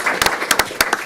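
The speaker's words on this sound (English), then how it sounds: "So I want to give a round of applause for our." A round of applause at a county board of commissioners meeting, with scattered hand claps in a short, uneven burst against room noise.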